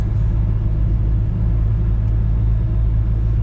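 A Toyota Corona cruises in fifth gear at 60 km/h, its engine a steady, loud low rumble with even road noise and no change in pitch, heard alone from inside the cabin.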